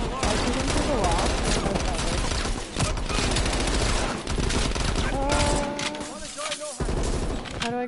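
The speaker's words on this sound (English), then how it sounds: "I shoot him through the wall." Dense, continuous gunfire and bursts from the video game Call of Duty: Black Ops Cold War, loud and close, with rapid shots and fusillades layered together nearly nonstop, short gaps near the end.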